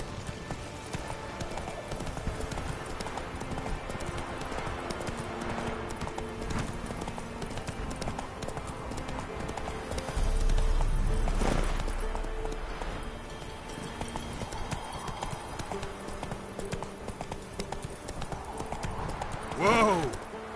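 Roach the horse gallops in The Witcher 3 on PS5, hooves clip-clopping in a quick steady rhythm under game music and ambience, with a louder thudding burst partway through and a short whinny near the end.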